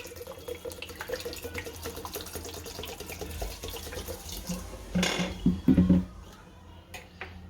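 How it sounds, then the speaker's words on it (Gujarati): Water runs and splashes into a pressure cooker pot of kidney beans nearby, with light clinks of the vessel and a louder gush of pouring near the end. "આમાં થોડુંક પાણી નાખશું."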